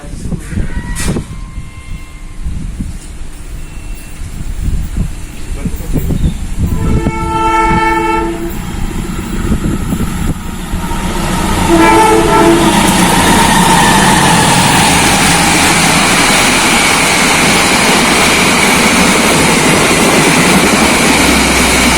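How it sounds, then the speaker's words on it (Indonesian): A train on the Surabaya–Yogyakarta line approaches a station platform with a long, loud horn blast, then rumbles and rattles louder as it pulls in close, wheels clattering on the rails. "ini kayaknya keretanya mau datang sebentar lagi"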